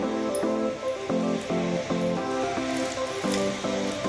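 Sweet corn vada batter fries in hot oil with a continuous close, loud sizzle and spitting bubbles, steady throughout.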